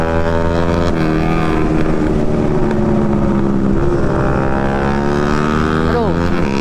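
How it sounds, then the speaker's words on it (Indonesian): A loud 150 cc motorcycle with an aftermarket exhaust drones steadily through Jakarta streets, its harmonic engine note rising and falling close by under constant wind buffeting on the microphone. "kalau kita pakai knalpot, apalagi cuman 150 cc. Aduh, berisik doang."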